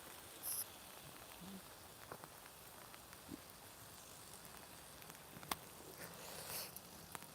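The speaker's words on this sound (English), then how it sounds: "It's the rain hitting that electricity pylon." Rain patters onto an electricity pylon in ancient woodland: faint, scattered ticks and drips over a soft, steady hiss, with a few sharper taps standing out now and then.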